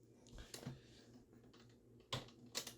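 Fingers tap a computer keyboard in short, quiet, irregular bursts of clicks with brief pauses between keystrokes.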